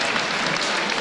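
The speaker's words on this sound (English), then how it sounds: "Give John a big round of applause." Brief burst of audience applause at a fight event, a dense wash of clapping from the crowd, loud and continuous for about a second.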